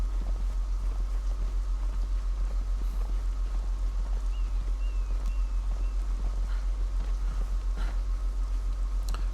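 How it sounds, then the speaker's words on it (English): Steady horse hoofbeats while riding in the game Conan Exiles, a continuous even clip-clop rhythm at moderate volume over a constant low hum, with no voices. "I don't want to try to ride my horse downhill"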